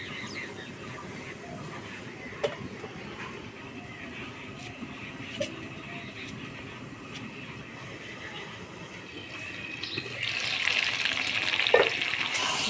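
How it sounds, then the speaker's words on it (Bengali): Mutton sautés in a pan, releasing its oil, with a soft continuous sizzle and occasional stirring clicks that grow louder and brighter toward the end. "মাংসটা প্রায় কষে আসছে"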